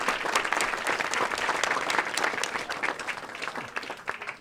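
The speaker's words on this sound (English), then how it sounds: "Let's give him a round of applause." An audience at a medical talk on multiple sclerosis and NMOSD applauding, many hands clapping in a lively, uneven burst that slowly thins toward the end, close and full, with no talk over it.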